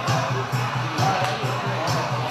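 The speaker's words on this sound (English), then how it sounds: "The crowd gets into it" Bar crowd on Thunder game night, a dense roar of many voices cheering with a pounding beat of music underneath, loud and continuous.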